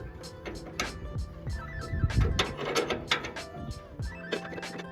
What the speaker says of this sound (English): Now here's where I'll put this ratchet in to make sure it goes faster.